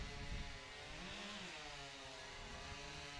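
A chainsaw roars steadily as it cuts through a wood block at a STIHL Timbersports competition, a loud continuous buzzing drone with a slight dip in pitch as the blade bites.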